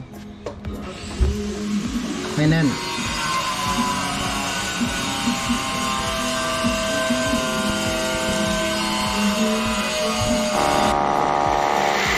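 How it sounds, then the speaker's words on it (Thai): A power drill whines steadily and continuously for several seconds, close and loud, with a brief pause and restart early on, drilling a support for a fish pond filter overflow fitting. "อันนี้เราเจาะซับพอร์ตนะครับ"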